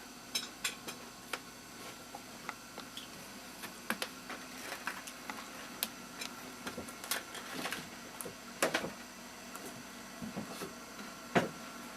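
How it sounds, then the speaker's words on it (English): A computer printer runs quietly at home with a steady low hum, broken by scattered sharp clicks and ticks at irregular intervals, faint and alone with no talk. "Maybe the printer's warming up."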